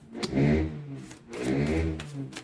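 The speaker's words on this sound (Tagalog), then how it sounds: "Pasensya na guys sa motor, no? Sa kapitbahay." A neighbour's motorcycle nearby revs twice, each a loud rising engine growl lasting about a second, separated by a brief dip before the second rev trails off.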